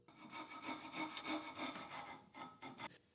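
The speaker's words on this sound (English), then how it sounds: "I'm going to take a saw and I'm going to cut it right there." A hand saw cuts through a freshly turned wooden tool handle, with steady back-and-forth rasping strokes, close and fairly quiet, ending in a few sharper final strokes.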